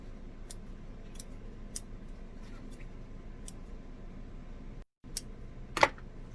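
Scissors snip loose threads on a freshly sewn tote bag, a series of short, crisp clicks at irregular intervals over a quiet room hum, with one louder snap near the end.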